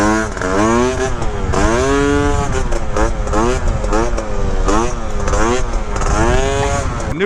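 A Gilera Runner 172cc scooter engine revs loudly and close, rising and falling in repeated whining surges, with someone talking over it.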